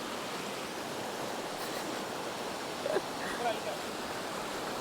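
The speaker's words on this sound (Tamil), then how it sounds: "எப்படி தண்ணி ஓடுது பார்த்தியா" Steady broadband rush of water running in a stream at Pulipainthakal near Batticaloa, continuous and fairly close, with faint brief voices under it.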